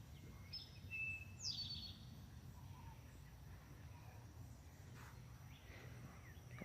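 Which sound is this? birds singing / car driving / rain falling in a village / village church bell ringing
birds singing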